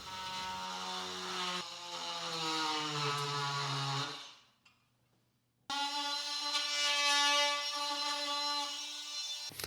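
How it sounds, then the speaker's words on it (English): An oscillating multi-tool cuts into wood while an entertainment center is built, giving a steady harmonic buzzing whine up close that shifts pitch as it bites, stops for about a second, then starts again and runs on. "This is one of those areas where having a multi-tool is so handy."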